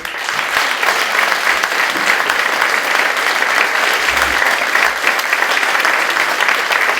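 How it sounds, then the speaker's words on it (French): An audience applauds at a sixties-themed dance gala in Jandrenouille in 2013, with dense, sustained clapping that fills the room at a constant loud level from start to finish. "Que je vais vous demander d'applaudir."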